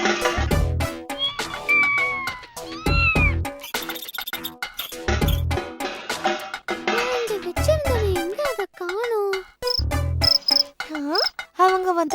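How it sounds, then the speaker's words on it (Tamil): A wild cat meows repeatedly in a cartoon story about a crab and a sarus crane, its rising and falling cries loud and close over an insect-like chirping background and animated voices. "காட்டு பூனை வெளியே தான் சுத்திட்டு இருக்கு"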